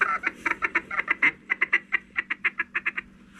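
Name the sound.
duck call blown to attract ducks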